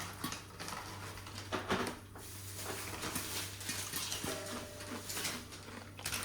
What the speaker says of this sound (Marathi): आणि हा असा सुंदर असा आवाज येत असतो ना पॉपकॉर्नचा